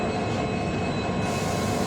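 The Vijapur–Mangalore Central Express, Karnataka's longest train, hauled by a WDP4D diesel locomotive, rushes past close by with a steady, loud roar of wheels and carriages on the rails throughout.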